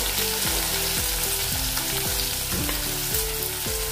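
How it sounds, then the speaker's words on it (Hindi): Finely chopped onion and green chilies hit hot oil already crackling with mustard seeds and cumin, giving a steady, close sizzle over light background music. "अभी इसमें डालेंगे प्याज कटा हुआ और साथ में हरी मिर्च भी डाल देंगे।"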